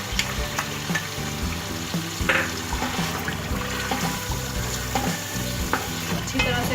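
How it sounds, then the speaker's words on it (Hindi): Masala of tomato and yogurt sizzling steadily in a pan for a bhuna gosht, with a spoon scraping and stirring through it in repeated close strokes; no talking. "मसाला भी भून रहा है"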